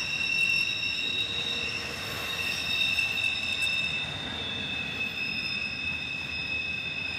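A long freight manifest train rolls steadily past at close range, the end of the consist brought up by a high top gondola; sustained wheel squeal rings over a continuous rumbling rail noise with no talk.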